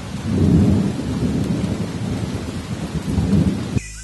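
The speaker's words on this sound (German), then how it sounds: "Dann setzt wolkenbruchartiger Regen ein, meist begleitet von heftigen Gewittern." Torrential downpour during a heavy thunderstorm: loud, dense rain with low rolling thunder rumbling throughout, steady and close, no voices.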